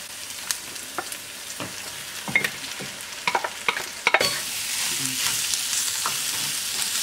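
Onions frying in a pan with garlic, ginger and chili for homemade sambar, a steady close sizzle that swells louder after the onion goes in, with a few sharp spatula and stirring clicks.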